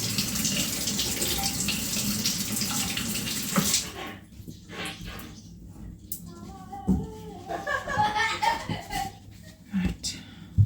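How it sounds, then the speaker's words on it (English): Tap water runs steadily while apples are rinsed under it, a broad hiss for the first few seconds, then quieter splashing and handling noises with someone talking over them. "let's wash these apples"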